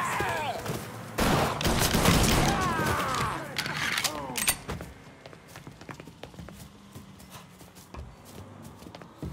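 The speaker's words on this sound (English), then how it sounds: "Is that a gunshot?" Gunfire from the Mafia 3 video game, a burst of loud sharp shots crackling among mechanical clatter and game noise, then sparser scattered pops fading into quieter background sounds.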